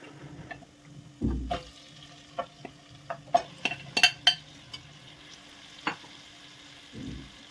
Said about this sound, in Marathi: मटण आपल्याला छान भाजून घ्यायचं आहे तेलावरती.